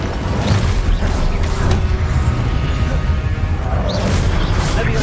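An Incendio fire spell is cast during combat in Hogwarts Legacy, a loud, dense magical burst with crashing, whooshing impacts that continue steadily through the fight.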